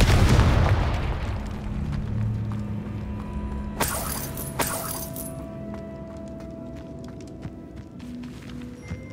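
A Confringo spell explosion in the video game Hogwarts Legacy bursts with a loud booming blast at the start, followed by sharp shattering cracks and a lingering rumble inside a tomb.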